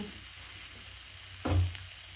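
Semolina for barfi fries in a pan with a steady, soft sizzle, and a louder hissing burst rises briefly when cream is added before settling back into constant frying noise.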